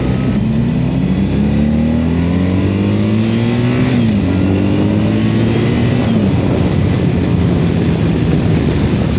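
A BMW motorcycle engine revs and pulls hard through corners, its pitch climbing and dropping with each throttle change, loud and continuous under rushing wind noise.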